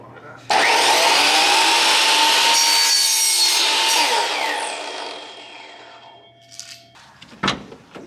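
A hand saw cuts through PVC pipe in fast, loud back-and-forth strokes for several seconds, then slows and stops, followed by a few light knocks and handling clatter.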